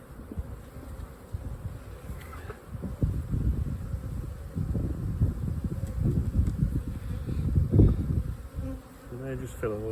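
Honey bees buzzing around a hive, a dense, steady drone of many wings close by that swells and fades as individual bees pass near.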